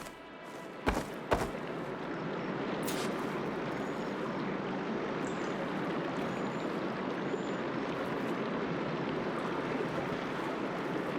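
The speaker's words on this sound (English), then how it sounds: "Aloy, I can hear water in the room again." Water rushing back into a stone room in Horizon Forbidden West, a continuous broad hiss like a steady stream, with two sharp low thuds near the start and a faint clank later.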